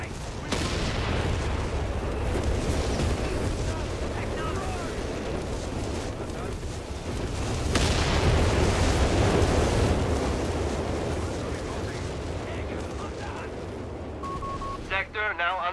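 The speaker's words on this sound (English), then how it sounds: "Artillery strike on the way." An artillery strike in the strategy game Company of Heroes 3 brings dense, continuous roaring explosions and rumbling blasts that swell midway, with brief voice chatter near the end.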